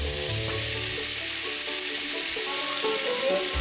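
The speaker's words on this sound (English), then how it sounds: "I'm going to put a little bit of oil in this pan for the steak." Steak strips seasoned with a chophouse blend hiss loudly in a hot oiled pan, a dense, steady, close sizzle with faint crackles throughout and no voices.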